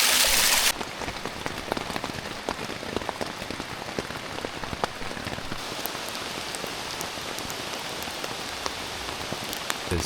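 Pouring rain during a thunderstorm on a backpacking trip in the Three Ridges Wilderness, a dense steady hiss of drops drumming close on a surface with scattered sharper splats throughout, loud and continuous, no voices.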